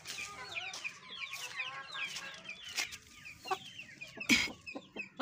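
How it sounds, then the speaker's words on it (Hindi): Hens and roosters cluck and chatter inside a village coop, a busy overlapping mix of near and far calls with a few sharper squawks standing out, and no talking. "ए अंदरों मुर्गी खड़ी है मुर्गा भी खड़े"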